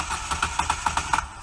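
A Moto Guzzi V7 motorcycle engine idles at close range, a steady low rumble with a regular pulsing beat through the short stretch, with no talking.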